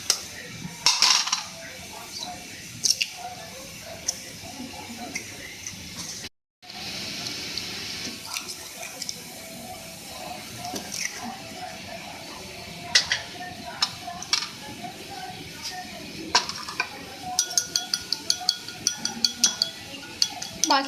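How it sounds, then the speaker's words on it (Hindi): Eggs are cracked and beaten in a bowl in a home kitchen, with running water at times, sharp clinks, and a quick, regular tapping of whisking that grows busier toward the end. A voice is faintly present. "बाकी अंडों को भी तोड़ के फेंट लेंगे"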